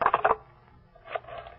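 A telephone being dialed in an old-time radio drama, a quick burst of four clicky dial pulses at the start, then quieter handling clatter after a pause, close and without talk.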